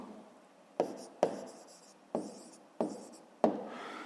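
A pen writing out a fifth-grade maths solution about cube volume, close and quiet, with five separate scratchy strokes, each starting with a sharp tap and fading off, spaced about a second apart.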